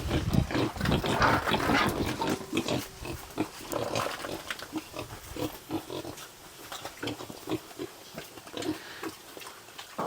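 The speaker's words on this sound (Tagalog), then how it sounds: "Snack sa ating native pig." Native pigs grunting and snorting while being fed, a dense run of close, loud grunts and squeals that thins into scattered snuffles and chewing.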